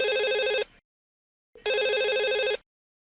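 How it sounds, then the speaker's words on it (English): Telephone ringing in a big house in the horror film Scream: two loud, close electronic rings, each about a second long, separated by a short silence. "the phone rings, she answers it."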